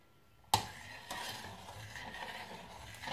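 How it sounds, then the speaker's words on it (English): Pudding being stirred in a pot on the stove, a spoon scraping and clinking against the pan with a sharp first knock, then soft steady swishing and scraping, close and quiet, with no talking. "Let's stir it up a little bit more."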